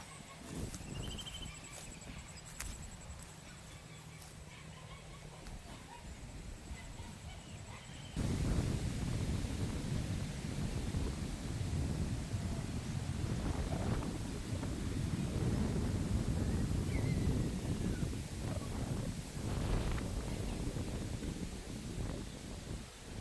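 Strong wind gusting across open village paddy fields, a steady broadband roar buffeting the microphone that grows noticeably louder and rougher after the first third and stays heavy to the end.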